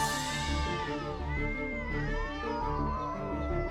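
Several cats meow in a steady run of drawn-out, rising and falling cries over a continuous low background hum, fairly close and clear, with no talking.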